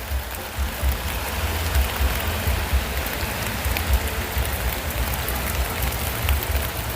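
Heavy rain pours steadily onto the roof of a small house, a loud, dense, unbroken hiss with no pauses and no voices.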